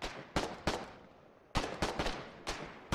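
Mortar fire in the war game Foxhole: a handful of sharp, booming launches in two clusters, loud and distinct, separated by a quieter lull, with no talking.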